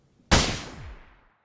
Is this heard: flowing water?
no